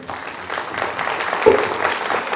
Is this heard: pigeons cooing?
no